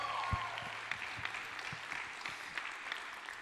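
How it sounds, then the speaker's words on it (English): Audience applause for contestants at a competition, a sustained patter of clapping with a few sharper individual claps standing out, moderately faint and steady throughout. "Again, let's get a big round of applause for the contestants that will not be moving on to the final round."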